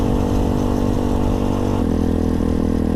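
Engine of an Apollo 250 motorcycle while riding, a loud, steady close-up drone with a slight shift in pitch partway through, heard alone without talk.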